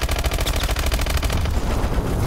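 Explosion with rapid gunfire-like bursts in the first-person shooter Call of Duty: Advanced Warfare, loud and dense with a regular rapid pulsing that fades into a rumbling tail, no voices over it.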